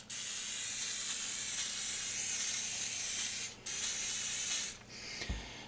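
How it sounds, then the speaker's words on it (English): Steady aerosol hiss of Ballistol lubricant sprayed onto shotgun parts, two long close bursts with a short break between, then a final brief spray and a clunk. "I'll just give her a soak. Just squirt everything down."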